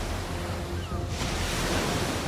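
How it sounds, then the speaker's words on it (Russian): Ocean waves on Earth played back from a recording, a continuous roaring wash of surf that swells louder about halfway through, heard alone without speech. "А вот земные звуки океана."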